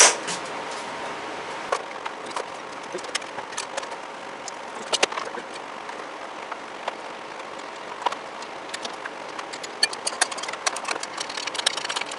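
A Craftsman lawn mower engine runs at a steady idle, a continuous mid-pitched drone with scattered clicks and knocks on top and no talk.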